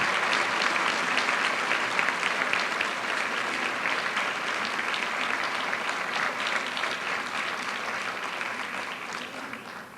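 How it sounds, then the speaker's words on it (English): A large audience at a high school senior academic recognition assembly applauds students, steady dense clapping sustained for about ten seconds and tapering slightly toward the end. "Please join me in a round of applause for these students."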